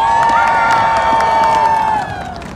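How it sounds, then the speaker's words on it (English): A street performance crowd in Times Square, New York, claps in a steady rhythm and cheers loudly close by, with a sustained whistle-like tone over the noise that fades near the end. "Clap your hands and make some noise."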